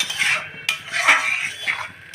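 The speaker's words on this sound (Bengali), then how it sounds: "দেওয়ার পর এটাকে একটু একটু নাড়াচাড়া করে নেব" A spatula scrapes and knocks against a pan while ripe papaya barfi mixture is stirred to dry out its moisture, several close scraping strokes with one sharp tap, no voices.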